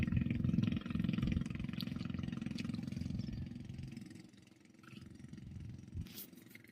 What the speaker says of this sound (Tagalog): Ayan, may bangka na paalis.